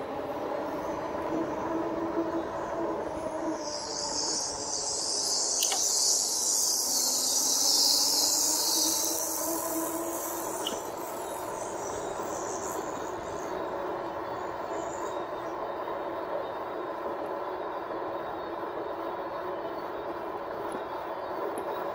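A train rumbles past steadily, a broad low roar that swells in the middle with a bright hissing rush, then settles into a continuous drone.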